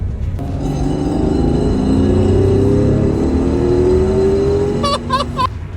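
A Ferrari Testarossa engine revs and accelerates hard, its loud rising tone held steady for several seconds before a few quick throttle blips near the end, heard from inside the car in winter.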